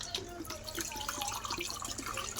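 Water pours steadily into a pot of steamed fish curry with masala, a continuous close splashing trickle with no talk.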